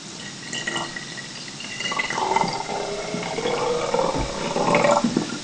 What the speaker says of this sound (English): I'm going to pour this now into a conical flask